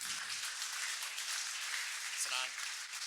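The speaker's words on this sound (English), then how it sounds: "Let's give Greg a warm round of applause, please." An audience at a social media breakfast event applauds a guest speaker, a dense, steady wash of clapping throughout, with a voice briefly audible near the end.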